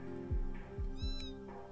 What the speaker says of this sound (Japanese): おー、猫。